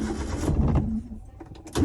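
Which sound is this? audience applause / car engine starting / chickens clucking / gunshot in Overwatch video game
car engine starting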